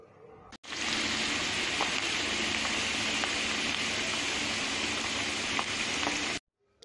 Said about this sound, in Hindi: आलूओं को हम फ्राई कर लेंगे